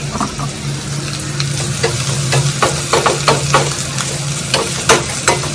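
Onions fry in a pan for poha, a loud, close sizzle of hot oil broken by repeated scraping clicks of a spoon stirring against the pan, with an underlying low hum.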